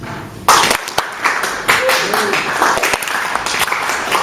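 A crowd claps in scattered, uneven bursts, with people chattering and calling out over the applause.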